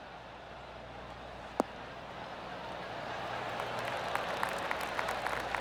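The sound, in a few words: golf crowd applause in video game PGA Tour 2K23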